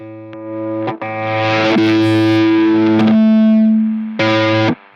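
Electric guitar through a Line6 Helix Dr. Distorto with the drive at minimum, slightly clipping as a few sustained notes and chords ring out loud and alone, with a gap before a final held chord.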